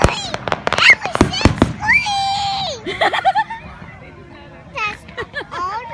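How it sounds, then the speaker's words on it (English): Fireworks go off in a rapid burst of sharp cracks and pops, some whistling and crackling, close and loud, while children shriek, laugh and chatter among the crowd. "Pineapple tree fireworks."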